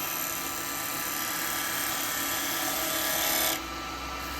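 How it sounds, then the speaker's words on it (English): A woodturning tool hollows a wet eucalyptus bowl on a lathe, giving a steady, close hissing scrape that stops abruptly near the end, leaving only the lathe's low hum. "go right across because I'm hollowing that out"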